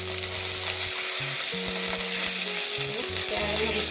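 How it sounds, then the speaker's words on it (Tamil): Water poured into a hot pan with ghee sizzles and crackles steadily while making poorna kozhukattai, a continuous frying hiss heard close, with faint tonal hums running underneath. "அடுத்தது கொஞ்சமாக தண்ணி ஊற்றிக்கலாமா?"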